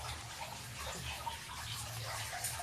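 Water trickles and drips steadily from freshly steamed wheat-flour dumplings set aside to drain, a soft continuous wet patter close by with no talking.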